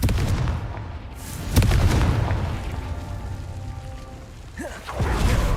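The Confringo fire spell explodes in Hogwarts Legacy, a single booming blast followed by a rumbling tail and more scattered impacts in a continuing magical fight. No voices are heard.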